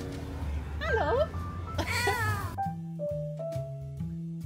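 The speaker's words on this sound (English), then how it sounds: "Look at this cat." A roadside cat in China meows twice in quick succession, near and clear, followed by a soft tonal melodic chime sequence, with no voices over it.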